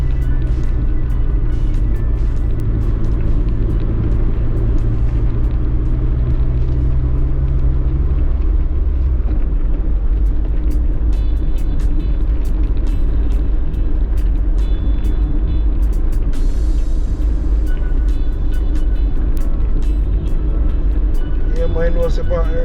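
A car drives along Jamaican country roads, a loud, continuous low road rumble with engine drone under someone talking throughout.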